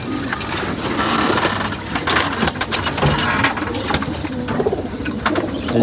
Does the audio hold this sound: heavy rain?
no